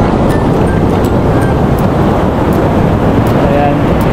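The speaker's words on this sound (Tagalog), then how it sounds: "Napakalaki ng mga agos dito." Strong current and big waves churn around a person standing waist-deep in the sea at Daet, Camarines Norte, a loud, steady roar of surf and water with wind buffeting the microphone.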